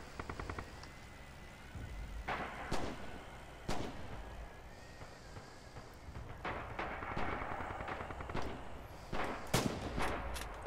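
Rifle shots in Red Orchestra 2, a World War II shooter, crack out as several loud, spaced reports, with distant battlefield gunfire and rumbling explosions filling the gaps between them.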